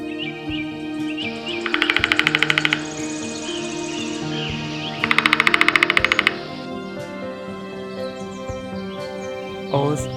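A woodpecker in a forest drums in two rapid, machine-gun-like bursts about a second long each, loud and close, over a background of chirping birds.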